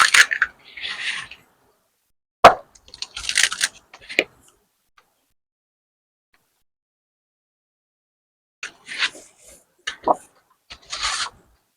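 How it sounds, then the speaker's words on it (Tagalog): Cut vinyl being peeled off a Cricut cutting mat in short raspy bursts of rubbing and crackling, close and fairly quiet, separated by long silent gaps with no talk. "tapos nang mag-cut ang machine, tanggalin lang natin yung vinyl sa cutting mat"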